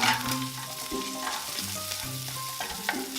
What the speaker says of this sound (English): We're gonna cook some of our pancetta